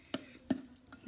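A spoon stirring pumpkin pie filling in a bowl, three soft scraping clinks spaced about a third of a second apart, quiet and close with no voices.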